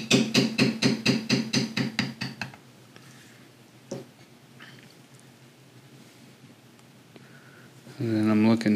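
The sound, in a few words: beveling carved leather with a beveler and mallet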